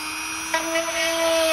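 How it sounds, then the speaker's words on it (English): A Dremel rotary tool drilling into a vinyl armour piece for a First Order biceps build: after a brief quiet moment, a close, high whine starts up and holds steady for about a second. "I'm going to use a combination of a Dremel and also needle files to make that a perfect hole."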